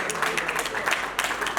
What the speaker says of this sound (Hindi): असली वाली ताली बजाओ।